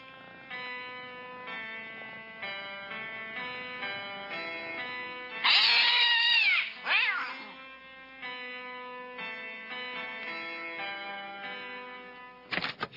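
Cats meowing in a household that also keeps a dog, two drawn-out, wavering meows rising loud over a gentle musical score.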